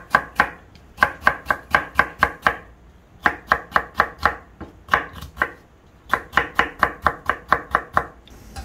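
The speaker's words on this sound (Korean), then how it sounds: "요것도 좀 채를 썰어서 넣어주세요." Kitchen knife slicing pear and apple into thin matchstick strips on a cutting board, heard as steady, crisp close-up chops in quick runs with short pauses between batches.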